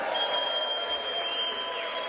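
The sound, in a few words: cheers and applause after House vote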